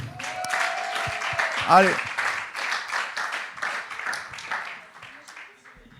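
Church congregation applauding and cheering at a Sunday service, a dense wash of clapping and shouts running through the whole stretch and tapering at the end, with a voice speaking over it.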